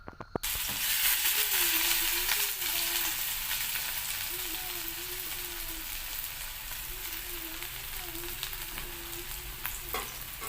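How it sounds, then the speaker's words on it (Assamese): Bitter gourd and gram-flour pakoras frying in hot oil, a dense continuous sizzle close by with a faint repeating hum in the background. "এতিয়া পকৰি বনাই আছোঁ"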